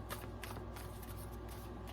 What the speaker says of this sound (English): I'm gonna do 4 more shuffles